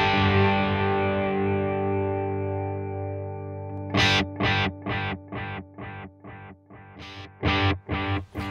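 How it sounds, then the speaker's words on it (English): Guitar run through a tape echo effect from the STL Tonality plugin: a sustained, distorted chord slowly fades, then a string of loud, evenly spaced echoing stabs repeats. "tape echo kind of thing."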